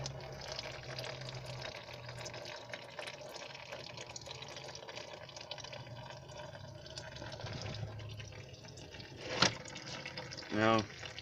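Motor oil draining from a GMC 2500 HD into a drain pan, a steady faint trickle running throughout with a couple of brief louder knocks near the end.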